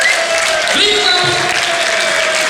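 Audience applause at a carnival song contest prize announcement, a steady wash of clapping filling the whole stretch while a voice speaks over it.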